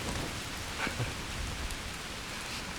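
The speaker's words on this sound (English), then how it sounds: "It's actually hailing out right now." Hail patters down on a bushcraft tarp camp beneath a big spruce tree at the top of a small forest valley, a close, continuous hiss of dense little impacts with no voices.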